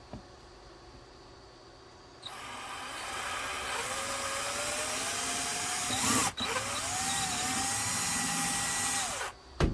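Close, loud whine of a power drill boring the first corner hole to mount a fusebox on a 2021 Kawasaki Mule 4010 4x4, starting after a quiet lead-in, rising in pitch, briefly pausing, then running again before stopping.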